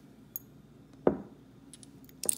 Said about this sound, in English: Oh, these sound like glass.